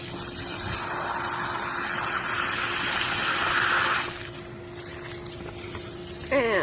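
Paint sprayer parts being rinsed under a water hose, a steady gushing spray for about four seconds that then softens into a quieter flow, with a faint steady hum underneath.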